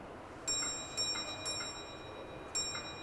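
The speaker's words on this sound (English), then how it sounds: "He accepts the train by repeating that 3 pause 1 bell signal." A small railway signal box bell rings the code three pause one: three quick strikes, a pause, then one more, each stroke clear and lingering.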